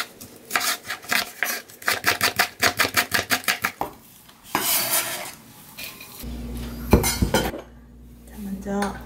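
A knife minces green onion on a cutting board in a home kitchen, giving a quick run of sharp, evenly spaced chops up close, then some scraping and clatter of utensils and dishes.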